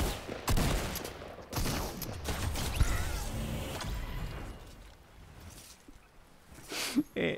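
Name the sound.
gunfire in Fortnite video game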